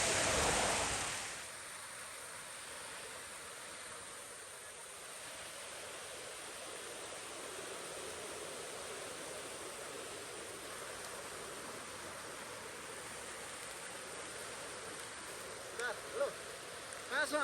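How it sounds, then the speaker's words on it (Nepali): A waterfall beside the trail to Khopra Danda gives a steady, soft rushing hiss of falling water, even and continuous throughout, moderately distant and fairly faint. "बाटोमा एउटा अत्यन्तै रमणीय झरना छ।"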